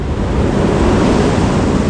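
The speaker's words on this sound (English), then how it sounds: "The sea is coming over that wall." Sea waves crashing over the harbour wall at Craster, a loud, close, continuous roar of surf mixed with heavy wind buffeting the microphone.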